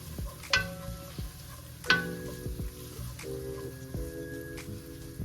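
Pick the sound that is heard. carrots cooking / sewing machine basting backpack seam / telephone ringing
carrots cooking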